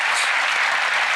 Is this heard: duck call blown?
no